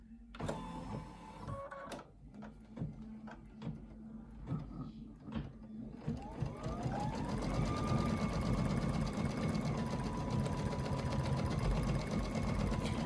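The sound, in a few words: Dream embroidery machine stitching a fabric panel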